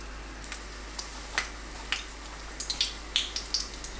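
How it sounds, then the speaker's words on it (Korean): Potato and sweet potato jeon pan-frying slowly on low heat, faint sparse crackles and tiny pops over a quiet low hum, close and gentle, no talking. "약불로 천천히 구우면 색도 예쁘고 속까지 잘 익은 전을 부칠 수 있습니다"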